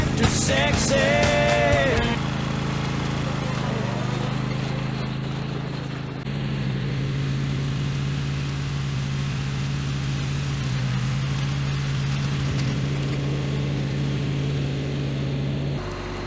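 A tractor engine runs steadily nearby, a constant low droning hum that continues throughout, with a voice talking briefly over it at the start.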